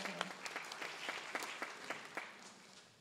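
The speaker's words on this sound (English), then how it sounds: "A big applause" Faint applause from an audience at a language teaching association event, a brief patter of scattered claps heard alone and fading out within a few seconds.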